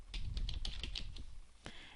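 Rapid keystrokes on a computer keyboard while entering a login ID, a quick run of close, crisp clicks followed by one final tap.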